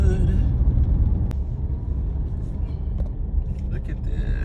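A car drives down a neighborhood road in spring, with a steady, close engine and road rumble throughout while a voice talks over it.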